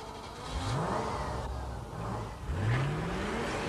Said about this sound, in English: this is the only one here to have a V8 engine